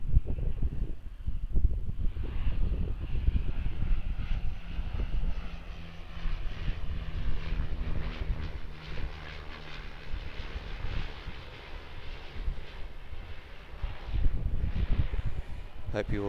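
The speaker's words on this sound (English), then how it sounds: "Our first arrival, just coming in here now." An Air New Zealand Q300 turboprop arriving at Auckland airport, its engine drone rumbling steadily through gusty wind noise, with a person talking over it.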